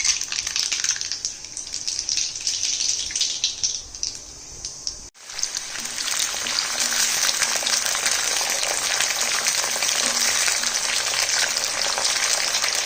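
Nigella seeds (kalo jeera) tipped into smoking-hot oil, a steady loud broadband sizzle that briefly dips at about five seconds, then swells back into a dense continuous frying hiss with no talk.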